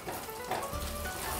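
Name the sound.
frying onion, tomato and cashew paste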